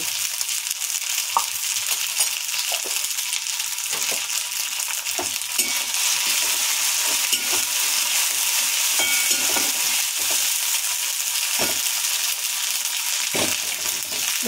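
Dal is tempered with a ground ginger, cumin and green chili paste plus a pinch of asafoetida, giving a constant loud hiss of sizzling oil with scattered stirring clicks and scrapes, close and without talk.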